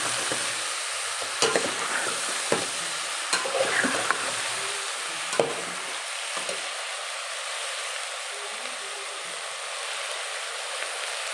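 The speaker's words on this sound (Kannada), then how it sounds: "ಚೆನ್ನಾಗಿ ಫ್ರೈ ಮಾಡಬೇಕು" Soya vegetable pulao with coriander and mint fries in a pan, a steady close hiss of sizzling with scattered clicks and scrapes of stirring early on, then an even sizzle without voices.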